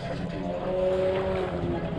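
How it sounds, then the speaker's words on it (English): A loud speedboat passing out on a lake, its engine a steady drone with a rising whine through the middle and wind noise over the microphone. "there's actually a pretty cool speedboat right now over there"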